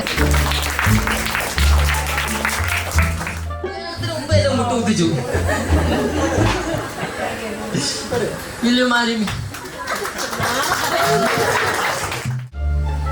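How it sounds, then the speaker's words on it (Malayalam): Guests at a Christian wedding-related celebration applaud with a steady patter of clapping, mixed with laughter, chatter and music, while people talk over it in a lively, crowded room. "കയ്യടി കൊടുക്ക്."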